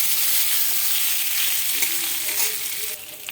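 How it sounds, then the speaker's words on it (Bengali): Boiled potatoes fry close by in hot oil with bay leaf and cumin, a loud steady sizzle that eases slightly near the end, with a faint clink and no voices. "সেদ্ধ আলুটা দিয়ে একটু ভেজে"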